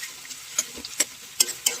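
Thinly sliced ingredients for fried rice frying over a high gas flame, with a faint steady sizzle broken by several sharp clicks of a spatula stirring in the pan.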